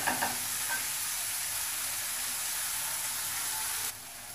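Spices fry in a pan with salt, giving a continuous close sizzling hiss that drops away sharply near the end, with no talk.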